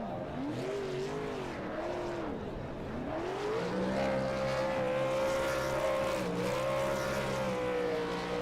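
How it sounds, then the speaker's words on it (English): Several nostalgia drag racing cars doing burnouts at a drag strip, engines roaring loud and steady with rising and falling revs and a continuous tire-spinning hiss, no voices. "Let's watch the burnouts."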